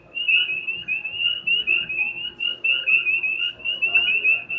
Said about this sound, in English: Got all kinds of frogs happening over here.